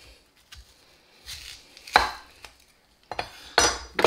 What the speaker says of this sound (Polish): Dwie cebule, które pokroję